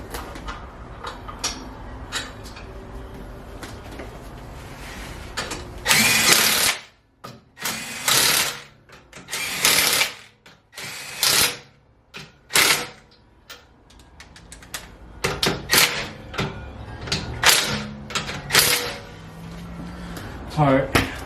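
Wrench work bolting up a control arm on a wrecked BMW M4, heard as a series of loud metallic clanks and ratcheting bursts in the garage, mixed with stretches of speech.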